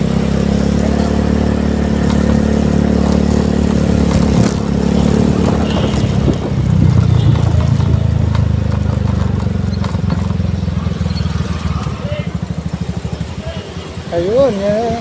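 A rented scooter engine runs with a steady mid-pitched hum that swells briefly partway through, while people talk over it.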